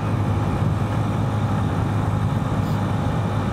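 A small 10 horsepower motorcycle rides along a road, its engine giving a steady, continuous low drone with constant rumble and wind noise throughout.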